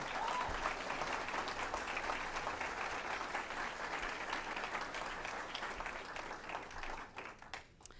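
A hall audience claps to welcome two candidates at an evening local political forum, the applause dense and sustained before it thins and fades out near the end.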